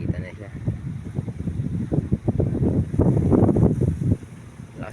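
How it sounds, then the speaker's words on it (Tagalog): Strong wind gusts across a calamansi farm, roaring and buffeting the microphone in uneven surges that swell toward the end, with a voice speaking underneath. "Lakas ng hangin dito sa amin"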